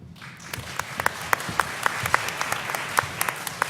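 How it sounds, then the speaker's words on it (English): Audience applause at a women's health research symposium, a dense wash of clapping that swells in and holds steady with sharp individual claps standing out, filling the hall for the panel. "let's make that a round of applause for all of our panel"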